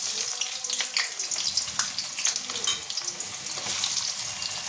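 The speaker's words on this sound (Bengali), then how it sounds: "কড়াই তেল বসিয়ে দিয়েছি, তেলটা গরমও হয়ে গেছে। এবার দিয়ে দেবো পেঁয়াজ।" Onions drop into hot oil in a wok and frying crackles with a steady hiss and scattered pops, close and moderately loud, with no voices.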